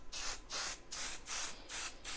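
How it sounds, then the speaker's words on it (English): Spray adhesive hisses out of an aerosol can onto quilt wadding in five steady bursts, each about a quarter second long and close by, with short pauses between them. "It's a very directional spray, that one, isn't it?"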